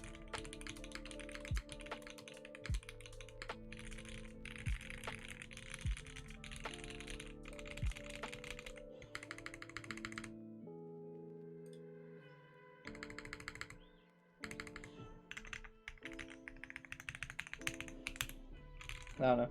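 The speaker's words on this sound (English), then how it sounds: "It's actually really fun to type on." Typing on an Ai03 Polaris mechanical keyboard fitted with WS Heavy Tactile switches, with steady runs of close, crisp keystrokes, a short pause near the middle, then more typing.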